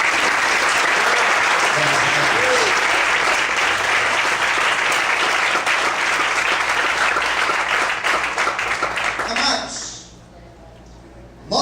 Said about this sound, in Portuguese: Você pode desocupar a sua mão e aplaudir ao Senhor.